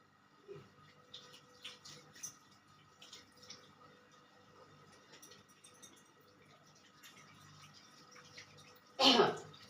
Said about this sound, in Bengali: হাত ধোয়া ছাড়া আমার কোনো কাজ নাই